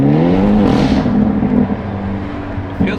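Tuned Hyundai Elantra N pulling hard on a public road from inside the cabin, engine note climbing steadily in a loud continuous drone with a brief shift-like dip near the end.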